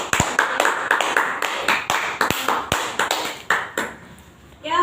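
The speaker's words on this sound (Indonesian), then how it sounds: "Berikan aplaus kepada" Sparse applause in a classroom: a handful of sharp, separate claps spread irregularly across a few seconds, close by, fading out toward the end, with a voice at the close.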